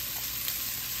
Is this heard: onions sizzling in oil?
yes